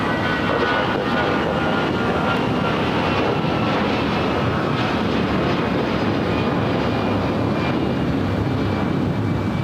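Airplane engines roar steadily at LAX in a continuous, loud, broadband drone that holds for the whole stretch without letting up.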